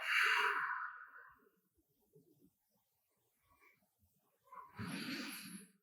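Deep breaths during seated chair yoga at an office desk: a slow, close inhale-exhale fades into near silence, then a second full breath returns near the end.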